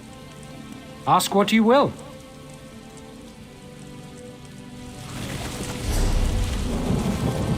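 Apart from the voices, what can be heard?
rain and thunder in the video game The Elder Scrolls Online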